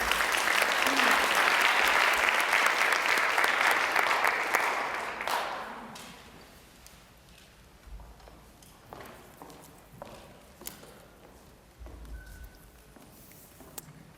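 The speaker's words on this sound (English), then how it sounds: "Give her a big round of applause." Loud audience applause greets a contestant at the Miss Indian UNM pageant, a dense sustained clapping roar for about five seconds that fades out, followed by quieter room noise, shuffling and a few scattered sounds.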